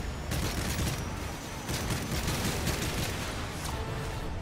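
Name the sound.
light machine gun fire in video game Modern Warfare 3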